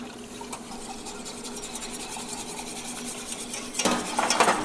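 Whisk scraping around a pot as milk is stirred into boiled cocoa, a soft continuous swishing that grows louder and more clattery toward the end.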